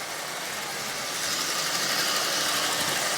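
A Lionel 8601 toy locomotive with a replaced front bezel runs on the rail at half power, giving a steady, close mechanical whir and hum that holds constant throughout.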